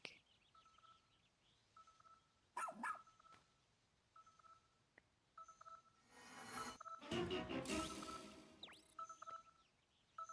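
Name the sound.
dog barking in Pikmin 4 video game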